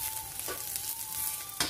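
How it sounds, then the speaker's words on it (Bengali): Garlic and chili frying in oil for a Bengali masoor dal, with chopped ginger tossed in. A steady close sizzle runs throughout, with a couple of brief bursts as the ginger hits the pan. "এই দেখো রসুনগুলো লঙ্কা মোটামুটি ভাজা হয়ে গেছে। এবার এতে দিয়ে দিচ্ছি আদা কুচি।"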